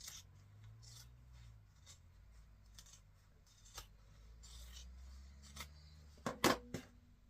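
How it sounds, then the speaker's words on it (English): Scissors trimming a fabric seam allowance while boxing corners, faint soft snips and rubbing sounds, ending with a few louder, sharper cuts close by. "I'm going to trim that seam allowance down to about 1/4 of an inch."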